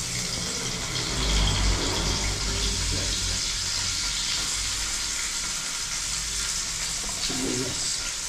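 Ginger pieces frying in a hot pan at an outdoor cooking spot, a steady close sizzle running throughout with a brief louder burst early on, no talking.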